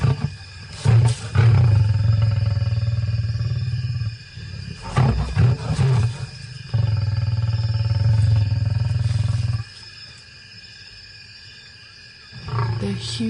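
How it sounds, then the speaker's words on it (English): A huge male lion in the wild growls and roars in long, deep, rumbling bursts close to the listener, loud and powerful, with short quiet gaps between calls. "those growls and roars just rattle through your body"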